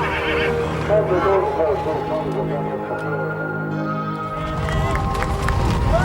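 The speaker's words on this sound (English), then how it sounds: "The ponies swim at slack tide, 100 yards, island to island." Ponies neigh and whinny loudly during the 1991 pony swim between islands at slack tide, with splashing and bustle underneath and a crowd murmuring as the herd is driven along.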